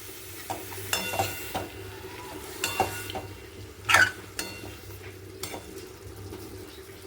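Broccoli and potato frying in ghee in a pan, stirred with a utensil: soft sizzling underlies scattered scraping strokes and one sharper clink of metal, quiet and close, with no talk.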